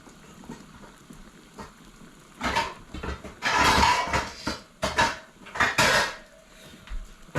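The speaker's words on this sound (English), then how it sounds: "I'm going to shut the fire off, and we're going to grab the cover for this pot" Metal pot lid lifted and set onto a cooking pot on a stove with the heat off, a cluster of clanking, rattling knocks over a few seconds, fairly close and loud.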